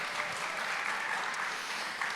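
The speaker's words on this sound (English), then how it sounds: "let's give them a round of applause" An audience at a chapel wellness panel claps for the panelists, a dense, even burst of applause filling the room.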